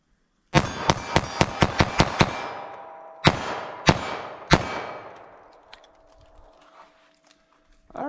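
A .22 LR pistol fires CCI Uppercut jacketed hollow points into ballistic gel: a rapid string of about seven sharp, close, ringing cracks, then three more spaced shots, each leaving a fading metallic tail.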